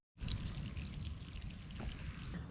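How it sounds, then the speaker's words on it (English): A small pump discharges water from an outlet hole in a steady, continuous pouring rush that stays close and even throughout, with no voices. "The pump's taking the water down a little bit."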